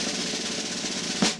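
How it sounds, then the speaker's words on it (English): A closed buzz roll on a snare drum, a steady dense rattling press roll held at even volume for over a second, ending in a single accented stroke, with no voice. "So the buzz roll, which sounds like this"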